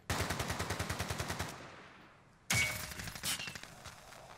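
Rapid automatic gunfire in Call of Duty Warzone, a fast burst of loud regular shots for about a second and a half, a brief lull, then a sharp blast followed by further shots and impacts.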